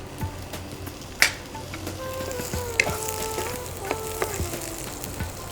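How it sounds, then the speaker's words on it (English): Diced pumpkin cooks in a pan with methi seeds, a busy close sizzle with crackles and a few scraping, clinking stirs of a spoon against the pan. "Now you need to dunk in the pumpkin which I have cut into"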